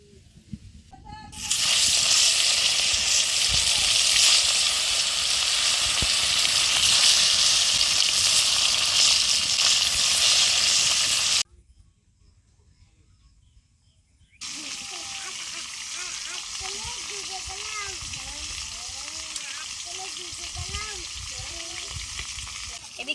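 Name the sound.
fish frying in oil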